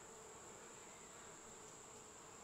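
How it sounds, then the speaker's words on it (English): Honeybees hum in a steady, faint drone from an open beehive during an inspection, the buzzing continuous and even throughout with no talk. "look at all those bees"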